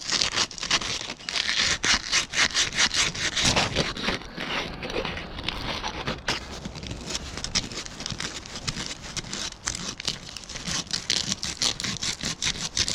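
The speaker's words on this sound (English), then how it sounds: "So I'm going to sand this by hand in these areas" Hand sanding of a wood-turned heart ornament with sandpaper makes soft, fast scratchy rasping strokes in an uneven rhythm, close and fairly quiet, with no talking.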